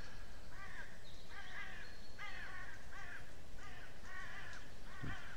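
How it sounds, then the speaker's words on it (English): Crows caw repeatedly in a Western frontier game level's nature ambience, a steady series of harsh calls at a moderate distance over soft background hiss, with a faint thump near the end. "Occasionally you might hear a crow in the background"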